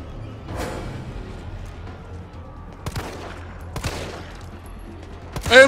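Gunfire in Resident Evil 3: Nemesis comes as several sharp shots spaced a second or so apart over quieter game ambience, with a louder blast at the end.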